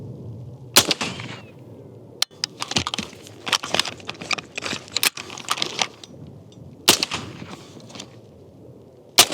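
Several sharp, loud AR-15 rifle shots crack out at irregular intervals, fired at a sand-lime brick wall mock-up, separated by clattering, rustling handling noises in between.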